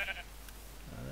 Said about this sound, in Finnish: Tässä on joku lammas.